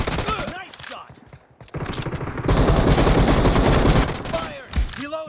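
Gunfire in a PUBG Mobile team deathmatch arrives as dense rapid automatic bursts, loud and continuous for a couple of seconds, with shorter shots before and after and game voice callouts mixed in.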